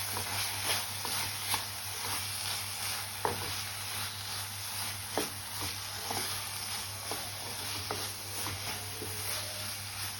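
Turmeric and coriander powder masala is stirred in a hot pan for home-style aloo gobi, giving a steady soft sizzle with faint scraping strokes over a constant low hum, and no talking.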